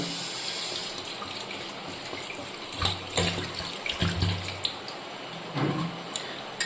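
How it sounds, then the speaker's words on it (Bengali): Water poured from a vessel into a pan of thick, oil-separated masala for tangra fish curry in a home kitchen, a steady rushing splash with a few louder bursts and clatters midway. "এবার দিয়ে দেবো আন্দাজ মতো জল।"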